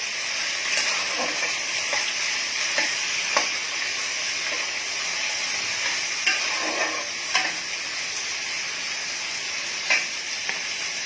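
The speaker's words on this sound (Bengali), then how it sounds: "এবার আমি পেঁয়াজ কুচোগুলো কাঁচা লঙ্কাটা সাথে ছেড়ে দেবো, একটু নেড়ে চেড়ে" Chopped onions and green chilies frying in hot oil with sugar, a steady close sizzle with occasional scraping and stirring clinks of a spatula in the pan.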